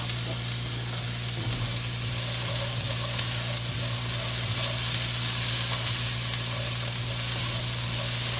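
Carrots, onions and garlic sizzle steadily in a hot pan, a close and continuous frying hiss with faint stirring under a low background hum and no talk.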